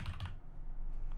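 Quick, soft tapping of keys on a computer keyboard, a short burst of close, quiet typing with no voice over it.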